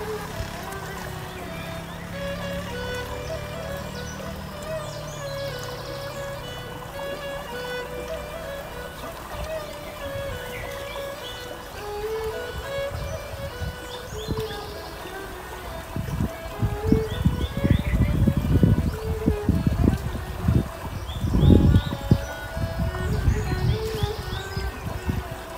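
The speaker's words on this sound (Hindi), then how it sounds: "खेतों के दरमियान से गुजरने वाले इस पानी की आवाज़ और परिंदों की आवाज़ को सिर्फ महसूस कीजिए" Water runs through an open channel between fields, a steady trickling flow with birds chirping across it, the water growing louder and splashier toward the end.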